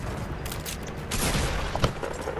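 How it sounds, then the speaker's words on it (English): Infantry rifle fire in a sniping video game: a dense run of sharp, loud shots that cluster into a rapid volley in the second half, with mechanical clatter between them. "I'm going after people with an infantry rifle."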